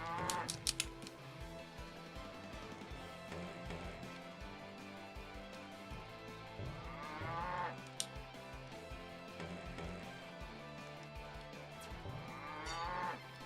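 Large cow boss mooing in the Nintendo Switch game Epic Dumpster Bear 2, several long, loud bellowing moos recurring over a busy game soundtrack and sound effects.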